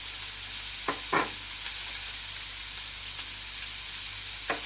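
Sliced carrots with turmeric and salt sauté in a pan with an even, continuous sizzle, broken by two quick spatula scrapes early on and another near the end.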